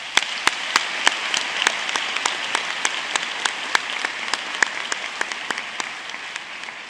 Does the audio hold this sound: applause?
yes